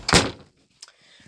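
A door at home is pushed shut with a single solid thud close by, followed by quiet and a faint small click.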